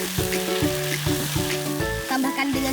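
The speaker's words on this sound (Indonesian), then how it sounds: "Bumbu yang sudah halus ditumis sampai harum." Ground spice paste sizzles steadily as it is sautéed in a pan, with a continuous loud frying hiss, no talking.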